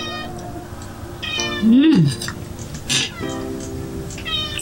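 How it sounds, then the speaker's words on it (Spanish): A hungry house cat meows insistently in a kitchen while carrot tortillas are being made, several close, drawn-out wavering cries with a brief murmur from a person between them. "Hasta mi gato está oliendo la delicia y quiere comer."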